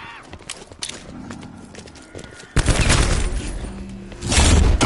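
A winged horse gallops in a video game: rapid hoofbeats clatter loudly and close, building in intensity, with a burst of heavy noise near the end.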